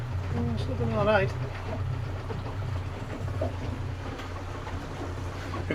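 A boat engine runs at full throttle in a shallow sandy harbour. It makes a steady, close, low droning hum throughout, and a voice briefly calls out near the start.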